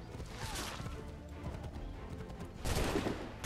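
Rapid gunfire crackles in an Assassin's Creed 3 battle as shots are aimed at a powder cart, a dense burst of overlapping reports with a sharper louder volley near the end over background game noise.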